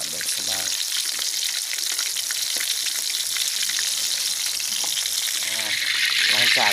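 Fish frying in hot oil in a pan sizzles loudly and steadily up close, with dense crackling and spattering that never lets up and swells slightly toward the end.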